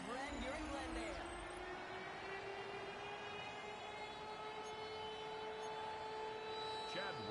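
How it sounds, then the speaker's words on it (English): The Arizona Cardinals' big red air raid siren wails through the stadium in Glendale, a loud, sustained rising tone that holds steady for several seconds over a dense crowd roar. "Sound of their signature big red siren, which signals an air raid"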